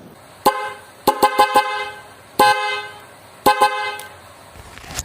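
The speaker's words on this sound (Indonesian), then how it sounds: "Nah, jadi itu ya untuk suara klakson dari Plosser ini." A Plosser dual 12-volt snail horn set with high and low tones, for motorcycles or cars, sounding loud, close honks: one short blast, a quick triple beep, then longer and stuttered blasts alone.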